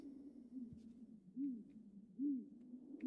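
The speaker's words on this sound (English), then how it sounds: "Also can't help but notice we hear the owl" Owl hoots from the horror game Tiny Bunny, three low soft hoots spaced about a second apart over a quiet low hum, fairly faint and distant-sounding.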